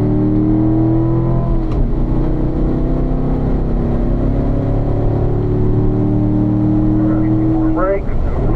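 A car drives fast on a race track, its loud engine drone rising and dropping at each gear shift, while an instructor talks over it.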